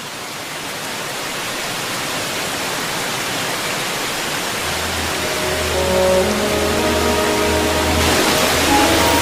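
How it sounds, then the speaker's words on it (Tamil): A waterfall roars as a loud, steady broadband rush that fills the whole span, and a low droning tone joins partway through. "அருவினா உனக்கு ரொம்ப பிடிக்குமே, அதான்."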